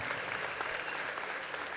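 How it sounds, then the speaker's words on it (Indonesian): A church congregation applauds during a Good Friday service, a steady, dense wash of hand clapping that fills the whole short stretch at a fairly quiet level, with no voices standing out. "Tepuk tangan sekali lagi bagi Tuhan kita."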